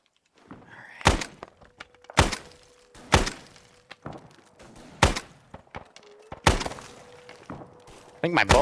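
Sharp, loud impacts from Arma 3 gunfire striking a window, landing roughly once per second in a steady series of cracks, each with a short decay, with voices talking quietly in the background.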